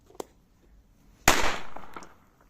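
A single New Year firecracker bursts sharply at close range, its bang decaying over about a second, after a small faint pop and near-silence.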